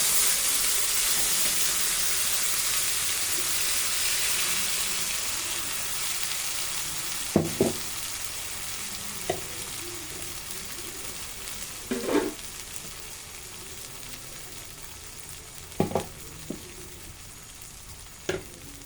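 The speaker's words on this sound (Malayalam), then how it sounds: "പിന്നെ നമുക്ക് അതിനകത്തോട്ട് അരപ്പൊഴിക്കാം" Spice paste of tomato, onion, ginger, garlic and nuts, cooked for butter paneer, sizzles steadily in a hot pan. A few sharp clinks and scrapes from stirring stand out over the continuous hiss, and nobody speaks.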